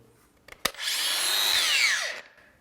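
A Makita 18V LXT brushless X-Lock cordless angle grinder, a click of the switch, then a fast spin-up to a loud high whine that holds briefly before the electric brake winds it down quickly.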